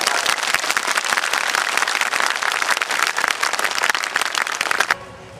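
A large crowd at a political rally applauds loudly and steadily for about five seconds before the clapping cuts off abruptly, dense overlapping claps filling the space.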